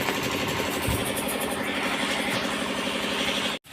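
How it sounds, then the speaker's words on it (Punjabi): A tractor engine idles steadily at close range, a dense continuous rumble with a throbbing mechanical vibration that cuts out abruptly just before the end. "ਟਰੈਕਟਰ ਬਰਾੜ ਦਾ ਉਹ ਖੜਾ"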